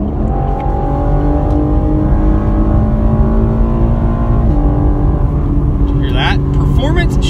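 A 2020 V6 Camaro engine revs up to 7,000 RPM while merging, a loud, steady rising engine drone heard from inside the car, with talk over the top toward the end.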